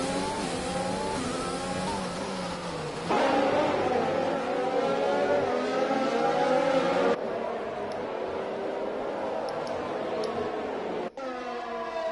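Race cars roar through an esports racing video game, engines revving and shifting continuously with layered passes and pitch swings, loud and steady throughout the stretch.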